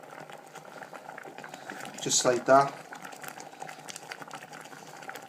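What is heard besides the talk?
water boiling in a pot for cream of rice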